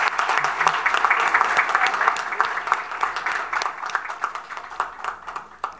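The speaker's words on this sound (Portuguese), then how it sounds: "Uma salva de palmas para todos." Audience applause fills an auditorium at an academy induction ceremony, a sustained dense clatter of many hands that gradually thins and fades toward the end, with scattered individual claps standing out.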